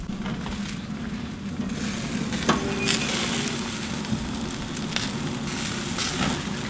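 Bear meat burgers sizzle steadily over a fire at an off-grid family camp, a constant close frying hiss broken by occasional small crackles and pops, with no talking.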